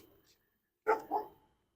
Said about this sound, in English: Here we have a dog park, so you can hear a dog barking at us.